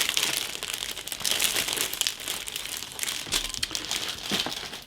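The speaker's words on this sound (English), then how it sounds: "It's a resealable bag, so let's just unseal it and we'll see what's inside." A resealable plastic bag holding 1/72 scale Arma Hobby FM-2 Wildcat model kit parts is pulled open, giving close, continuous crinkling and crackling of plastic with a few sharper rustling bursts and no talking.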